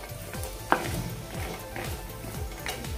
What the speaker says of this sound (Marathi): हे सतत हलवत खोबरं भाजायचं आहे आपल्याला